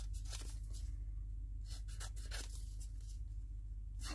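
Scissors or a blade trim a paper journal insert in short, quiet bursts of scraping and snipping, several brief cuts spread over a few seconds with no voice.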